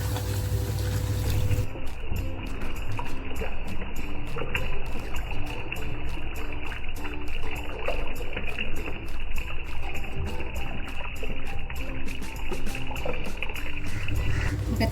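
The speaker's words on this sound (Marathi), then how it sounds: "पाणी टाकते" Water is poured into masala frying in a pan for a homestyle Rawas (Indian salmon) curry, making a steady, continuous rushing splash and bubbling hiss that lasts throughout, fairly close and loud.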